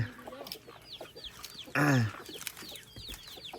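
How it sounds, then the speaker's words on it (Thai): Backyard chickens and ducks in Fresno, California, clucking softly in scattered bursts, with one louder close squawk midway amid faint background chatter. "เป็ดไก่เพิ่นหลาย"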